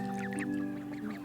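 A brood of six mixed-colour ducklings on water gives a quick run of close, high-pitched peeping quacks over a steady background hum, with no talk.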